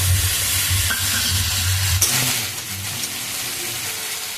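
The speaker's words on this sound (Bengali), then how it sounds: "এখানে আমি একটু আদা আর রসুন বেটে রেখেছি দেখুন এবার এগুলো সব খুব ভালো করে একটু মিশিয়ে নেব" Ginger and garlic paste stirred in hot oil while cooking straw mushrooms, giving a loud sizzle with scraping strokes. A sharp clatter comes midway, then the sizzle settles into a quieter hiss.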